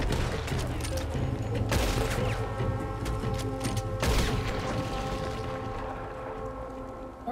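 Gunfire in the video game Red Dead Redemption 2 bursts out in two sharp loud shots with a rattle of smaller reports and ringing mechanical tones between them.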